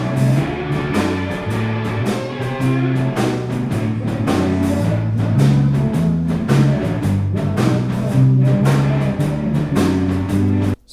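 Full drum kit in a lively room captured by a ribbon microphone with its figure-of-eight pattern aimed at the walls, with steady hits and cymbal wash over sustained tones, roomy and continuous for about eleven seconds.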